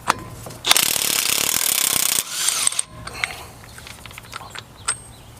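An impact wrench rattles loose the 36 mm front axle nut on a Chevrolet K2500 OBS truck during brake work, one loud buzzing burst of about a second and a half, then scattered clinks and metallic taps.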